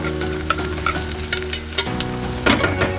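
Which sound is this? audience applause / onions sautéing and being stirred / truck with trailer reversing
onions sautéing and being stirred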